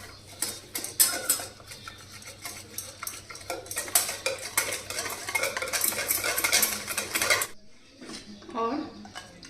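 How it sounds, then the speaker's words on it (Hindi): Spoon stirring custard powder into milk in a bowl to work out lumps, with busy clinking and scraping strokes of steady rhythm, fairly close, pausing briefly near the end. "इसमें थोड़ा सा दूध डालेंगे और इसको अच्छे से मिक्स करेंगे"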